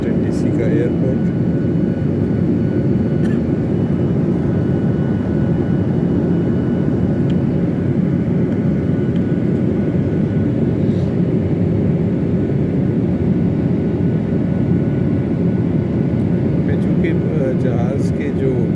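An airliner's jet engines roar steadily, heard from a cabin seat near the wing on a flight from Tennessee to Washington, D.C., as it approaches the airport. The noise is loud, dense and unbroken throughout.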